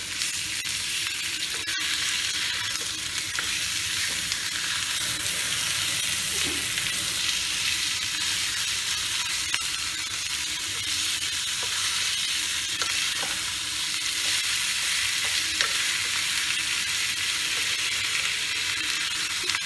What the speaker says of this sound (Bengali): এটা এপিট ওপিট করে হালকা ভেজে এই পেঁয়াজের উপরেই যে ভাজাটা ভাজবো